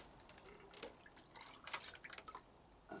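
Water poured over a potted Phragmipedium orchid, a faint splashing and dripping that comes in several short bursts against a quiet background.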